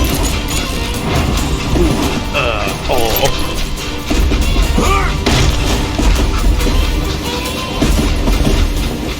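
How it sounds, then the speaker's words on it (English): A video game train rumbling along rails with rhythmic clacking and heavy mechanical noise throughout, with voices speaking over it at times. "It was then that Jesse detached the express car from the rest of the damn train."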